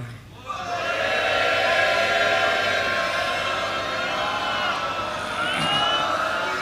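A Sikh congregation at a katha gathering at Takhat Sri Harimandir Ji, Patna Sahib, raises a loud collective jaikara, many voices swelling together into a sustained shout that holds steady and then trails off.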